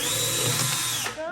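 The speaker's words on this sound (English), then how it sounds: "I'm gonna be drilling" Power drill boring into a bottle, a loud continuous high whine with grinding texture that winds down abruptly near the end, close up and heard alone.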